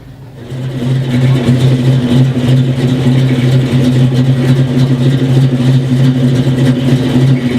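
A 1966 Ford Fairlane engine revs, rumbling loudly and steadily close by, a deep sustained drone that builds up at the start and holds.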